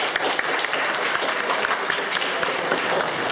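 Startup Factory event audience claps together, a loud, close, continuous patter of many hands with occasional sharper individual claps throughout.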